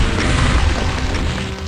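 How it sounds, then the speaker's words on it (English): Rocket launcher blasts in Doom on the Sunlust map, a loud, continuous rumble of overlapping explosions and crashing impacts filling the short stretch without pause. "I quick kill the Archviles with the rocket launcher and then just leave"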